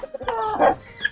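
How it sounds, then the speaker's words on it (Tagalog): A young rooster about four months old, one of a group of male chicks, gives a short burst of clucks lasting about a second. It is close, loud and clear, with no other sounds. "Ito lang isang manok ko dito naging tandang na siya."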